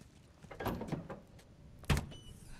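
A door being opened in the video game The Last of Us Part 2, with a mechanical scrape and rattle near the start and a sharp, louder clunk toward the end, heard up close with no talking.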